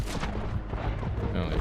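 Gunfire in the Wild Assault shooter, a rapid burst of sharp shots crackling close and loud over a busy game mix for a brief moment.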